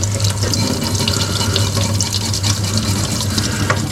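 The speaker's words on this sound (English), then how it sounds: "here in my sink" Tap water running into a sink while an engraved white tile is rinsed under it, a steady close splashing hiss with no voices.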